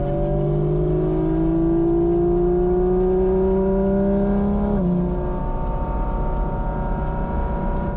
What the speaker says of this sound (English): Hearing the engine from inside the car was definitely a cool experience.